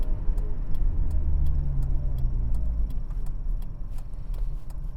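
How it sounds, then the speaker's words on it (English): A worn, poorly kept Nissan Almera gives off rapid, irregular high chirps like crickets from the front of the car while driving, sitting clearly over a steady low road and engine rumble. "I don't know if you can hear that noise towards the front of the car, but it sounds like crickets chirping"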